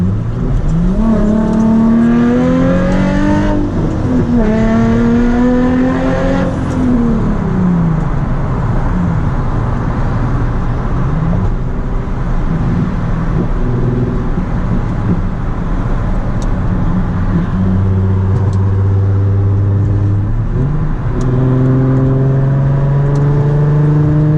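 Nissan 350Z with its VQ engine revving hard under acceleration in Bay Area traffic, loud rising and falling sweeps through several gears, then a steady droning cruise.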